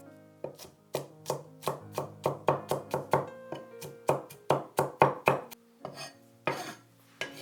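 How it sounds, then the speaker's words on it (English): A knife chops garlic cloves on a board in a quick series of crisp, close taps, about two or three per second, briefly pausing before a final few strikes. "Chop the garlic cloves."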